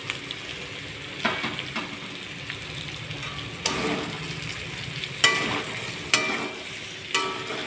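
Bitter gourd pieces fry in a pan with salt, turmeric and chilli, giving a low steady sizzle broken by several sharp scrapes and clinks of stirring, fairly close and without talk.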